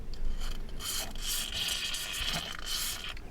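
A worn rear wheel hub bearing on a 2016 Lexus ES is spun by hand, making a continuous dry rubbing, rasping grind that stays steady at close range for a few seconds, with no squeal and no voices.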